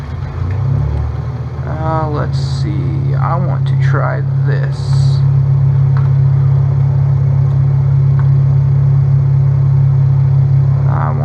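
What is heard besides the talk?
aircraft engine running in Flight Simulator X video game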